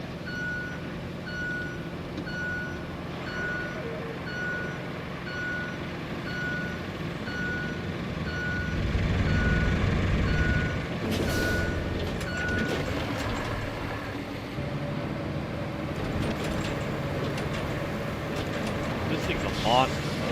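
Reversing beeps from a dump truck in the RoadCraft video game repeat steadily over a heavy engine rumble, which swells midway. People talk over it.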